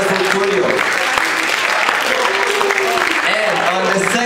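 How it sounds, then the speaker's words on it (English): An audience gives steady, loud applause for the winner of a presentation session, with a voice speaking over the clapping throughout. "give a big round of applause for Julio."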